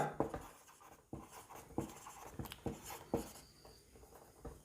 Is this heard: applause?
no